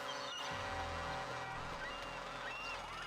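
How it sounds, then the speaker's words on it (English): A seagull calls in GTA Online, its repeated squawking cries riding over a steady, loud bed of game ambience and low engine drone. "it's a seagull."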